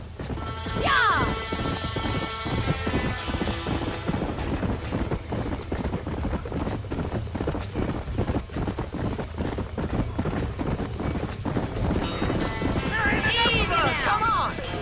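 Horses by a burning barn in Red Dead Redemption beat out rapid clip-clopping hooves throughout, with shrill neighs near the start and again toward the end, beneath shouting voices and crashing noise.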